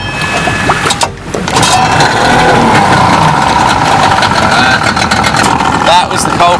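An engine starts and settles into a steady, loud idle during bush repairs in the South Pacific, with people talking over the running motor.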